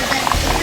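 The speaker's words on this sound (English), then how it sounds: "I'm just going to like kind of saute this okra up a little bit." Okra sautéing in a skillet still holding the juices from cooked chicken, a steady close sizzle and bubbling hiss with no talking.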